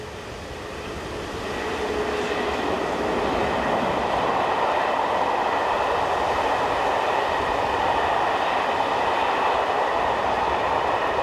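A locomotive-hauled passenger train on the Bar-le-Duc to Paris line in France passes nearby, its rolling rumble and rail clatter swelling over the first seconds and then holding loud and steady with a faint squeal.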